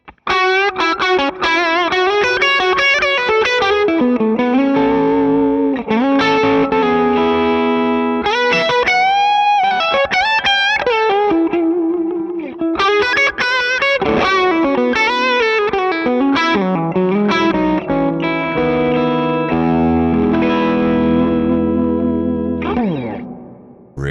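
Loud, heavily distorted electric guitar lead through a high-gain amp plugin with chorus and echo, flowing runs, bends and sustained notes, played continuously without any talking.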